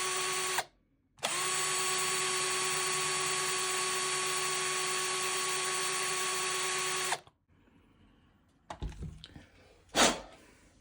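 A small power drill whines at a steady high pitch for about six seconds while boring a small hole in a diorama, then stops, followed by a few quiet handling clicks and a brief knock.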